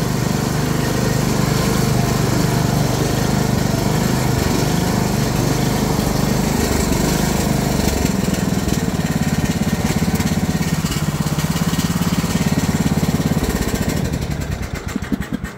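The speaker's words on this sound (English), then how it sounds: "Good running mower." A Bolens ride-on lawn mower with electric start and a double bagger runs steadily nearby, its loud constant engine drone holding for most of the clip before easing off at the end.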